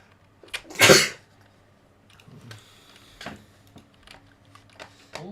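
A single sharp, loud sneeze bursts out near the start indoors, followed by quiet keyboard taps and small clicks.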